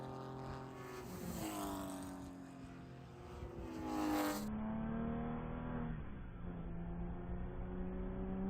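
Porsche Cup race cars lap Willow Springs during qualifying, engines droning and shifting pitch as they pass at mid distance, one car's note rising loud before easing into a steady, sustained roar with no voices.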